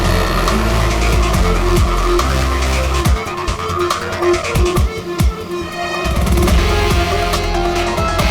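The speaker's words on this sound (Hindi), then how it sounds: "ये गाड़ी ऐसे क्यों चला रहा है? ये तो एक्सीडेंट कर देगा।" A car driven recklessly roars loudly and continuously while its tires squeal and skid in repeated bursts.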